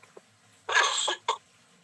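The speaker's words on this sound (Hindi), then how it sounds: "सॉरी दोस्तों, मेरे इस सिस्टम के साथ साथ में मेरी खांसी से भी आपको रूबरू होते रहना पड़ेगा" A man coughs indoors: a faint tick, then one harsh cough burst and a shorter second cough, alone with no talk.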